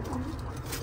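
Pigeons coo softly in a short, low murmur, faint against steady background noise, with no voices.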